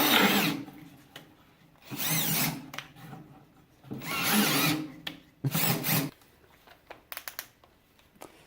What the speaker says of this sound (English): now that we got our pilot holes drilled, as you can see here, we are ready to go up to the next size